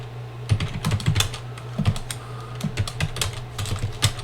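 Fingers tap quickly on a computer keyboard in short irregular bursts of clicks, close and clear over a steady low hum, with no talking.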